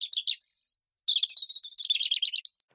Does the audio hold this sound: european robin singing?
yes